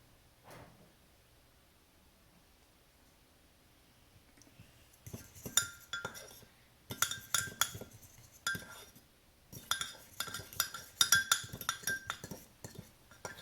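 A fork mixes coconut flour mug cake batter with baking powder and liquid stevia in a mug, giving quick, irregular clinks and scrapes in clustered bursts after a quiet opening.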